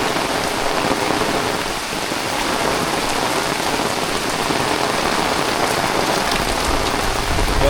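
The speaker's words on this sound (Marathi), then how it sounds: "हा कसला जोरदार पाऊस आलाय तो दणक्यातच आला." Heavy rain pours steadily on a rural Konkan village morning in Ratnagiri, a loud, dense, continuous hiss of drops hitting surfaces, with no voices and no thunder.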